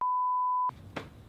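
A steady censor bleep, a single unbroken tone about two thirds of a second long, masks a swear word before ambient room noise and a short breathy sound follow.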